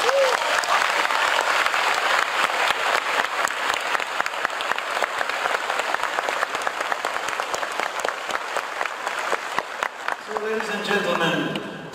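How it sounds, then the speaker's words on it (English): Sustained applause from a concert audience for an orchestra at a show in Warsaw, dense steady clapping filling the hall for about ten seconds before fading as a voice begins. "And a big applause to this beautiful orchestra."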